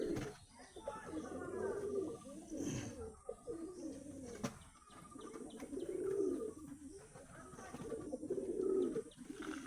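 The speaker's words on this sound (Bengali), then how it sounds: "এই যে একটা পায়রা, দুর্দান্ত কোয়ালিটির পায়রা বন্ধুরা।" Caged male and female pigeons coo in low, rolling murmurs, close and fairly faint, with soft rustling and a sharp click, while someone talks over them.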